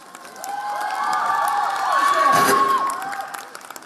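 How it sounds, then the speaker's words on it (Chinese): Staff at a rehearsal for a Hunan TV Lunar New Year gala in Changsha scream and cheer as T-ARA takes the stage; shrill screams and cheers swell to a peak midway, then fade, at a moderate level. "连现场的工作人员都忍不住连连尖叫。"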